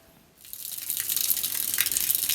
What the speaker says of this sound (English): The water is just running off the roof.